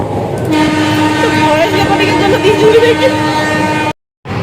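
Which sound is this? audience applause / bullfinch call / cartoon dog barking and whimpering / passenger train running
passenger train running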